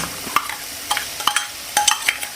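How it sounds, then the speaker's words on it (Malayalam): Ginger garlic paste hitting a hot pan for a soybean curry, giving a few sharp crackles and pops with a spatula stirring in between, close and fairly loud, no voices. "ഇനി നമ്മുടെ ഇഞ്ചിയും വെളുത്തുള്ളിയും പേസ്റ്റ് അത് ഇടുക"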